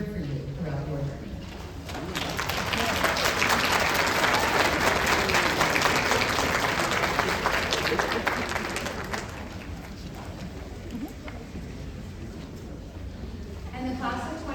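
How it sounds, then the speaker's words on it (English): A graduation audience applauds the people who supported the 2025 South University PA class, with sustained clapping swelling for several seconds and then fading back, joined by faint voices and scattered bird cooing. "Students, please stand, turn, and provide a round of applause to those that have been here for you throughout your journey."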